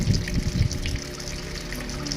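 Water gushes steadily into the tub of a Panasonic automatic washing machine that has been converted to manual operation. The flow is continuous and moderately loud, with no talk.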